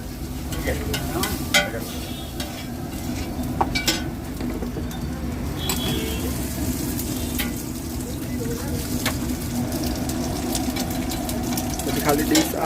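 Tadka tempering for a triple egg ghotala sizzles steadily in hot oil while being stirred, with a continuous frying hiss, scraping clicks and faint background noise throughout.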